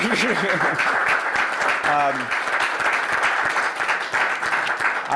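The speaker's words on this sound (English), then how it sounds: "Yeah, you can clap for that." Audience applause at a Pennsylvania environmental cleanup act press conference, a steady wash of clapping from a modest crowd lasting several seconds, with a brief spoken voice near the start.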